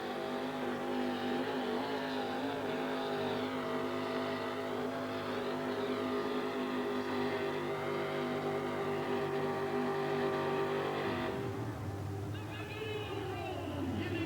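A 1974 Chevrolet monster truck with a 468 cubic inch motor roars loudly and steadily through a race run at an arena event, its engine drone sustained throughout before shifting near the end, with an announcer talking over it.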